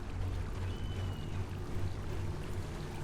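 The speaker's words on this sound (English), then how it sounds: "Well, this would explain why I was hearing water." Steady flowing water in the game Skyrim, a constant low rushing wash with a soft high whine passing briefly through it, heard alone.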